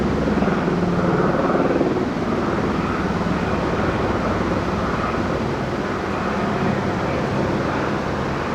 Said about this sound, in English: I don't know if this third helicopter's media or what it is.